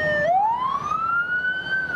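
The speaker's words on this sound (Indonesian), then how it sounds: "Ada ambulans lewat, jadi minggir dulu." Ambulance siren passing on a road, a clear wailing tone that sweeps upward and holds high, fairly close and prominent over faint traffic background.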